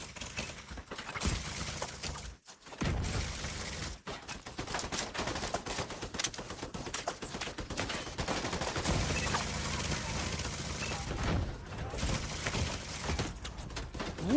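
Light machine gun fire in The Division 2, long rapid bursts of gunfire rattling almost continuously, with brief gaps and scattered impacts, loud and close.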